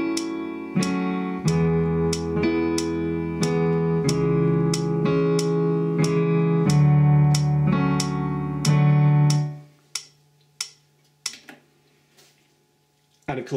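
Piano keyboard chords from a song, struck in a root-up rhythm as repeated sustained block chords for about ten seconds, then fading into near silence broken by faint taps.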